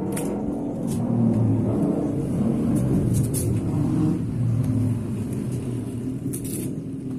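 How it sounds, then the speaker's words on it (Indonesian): Steady low rumble of traffic on a main road right beside a house, with motorbikes passing close by and a continuous engine drone holding through the whole stretch. "Sorry tembalut nyawi kalau ada bunyi-bunyi motor. Memang rumah kami dekat betul jalan raya."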